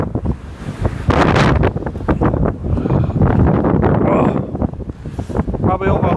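Strong gusting wind during a blizzard roars in loud, rough buffeting bursts that rise and fall across the whole stretch, battering the microphone, and someone speaks briefly over it.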